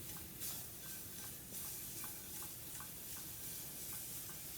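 Butter melts in a very hot, already smoking pan and sizzles steadily with a dense, close hiss, while faint rhythmic ticks come through underneath.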